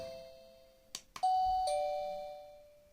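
A Fuers wireless smart doorbell plays a short electronic chime melody at low volume: a couple of brief clicks, then clear sustained tones that slowly fade, with no talking.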